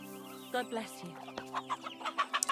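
Chickens cluck repeatedly in the medieval role-playing game Kingdom Come: Deliverance 2, a burst of short bright clucks rising toward the end over a steady tonal background hum.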